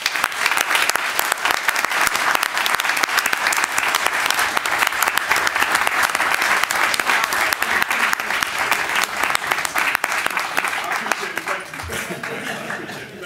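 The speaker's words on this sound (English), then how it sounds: "I'd like to give them a round of applause" Sustained, dense applause from a room full of people at a Chicago transit board meeting, honoring CTA rail employees, steady throughout and easing slightly toward the end.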